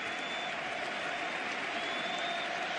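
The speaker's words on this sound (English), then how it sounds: "the round of applause around this stadium as Messi bewitches, bothers and bewilders us all" A stadium crowd at a Real Betis vs Barcelona football match applauds Messi, a broad, even wash of clapping and crowd noise that holds steady throughout, heard from a distance.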